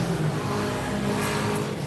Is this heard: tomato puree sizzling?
no